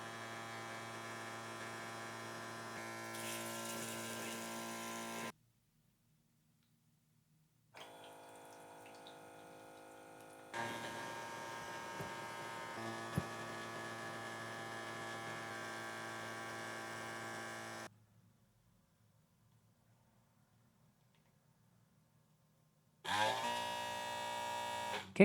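A Trimcoo 5-blade electric shaver's cleaning station runs a steady mechanical hum with a watery whir in several bursts, separated by stretches of near silence.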